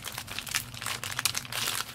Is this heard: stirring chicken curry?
no